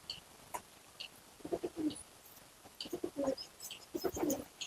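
Pigeon cooing in soft repeated bursts, several low throaty coos close by with faint chirps from other birds in the background.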